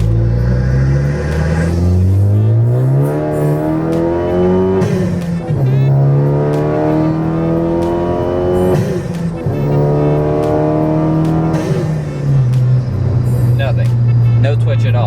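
A Ford Focus ST with chassis bracing pulls hard in second gear, its engine note rising loud and close in repeated revving sweeps that dip between shifts and climb again, with a voice talking over it.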